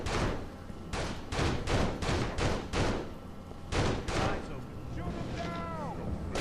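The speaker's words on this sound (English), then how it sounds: "wait for an opening and then shoot with your pistol" Pistol shots fired in the Urban Chaos Riot Response video game, a rapid run of sharp, loud bangs in two bursts with a short gap between, followed by a ringing tail while someone talks.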